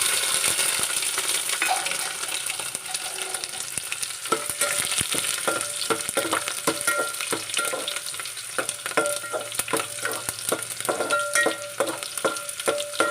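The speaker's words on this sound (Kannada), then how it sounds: "ನೋಡಿ ಬೆಳ್ಳುಳ್ಳಿ ಕೆಂಪಾಗೋ ತನಕ ಹುರ್ಕೊಳ್ಬೇಕು" Garlic and mustard seeds fry in hot oil as a tempering for village-style dal palak, a steady bubbling sizzle dotted with sharp crackles and pops that grow busier toward the end, close and uninterrupted.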